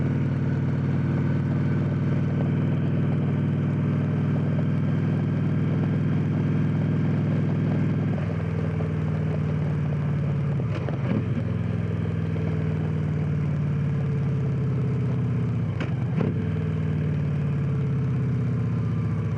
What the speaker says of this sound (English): that engine braking is phenomenal